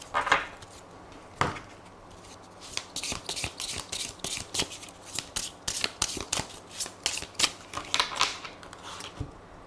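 Tarot cards being shuffled by hand, a run of quick crisp riffling and slapping bursts in an irregular rhythm, close and fairly quiet, with no talking.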